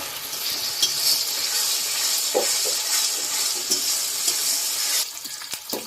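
Continuous sizzling of onion paste frying in a pan, with occasional scraping stirs and soft clinks; the sizzle drops away near the end.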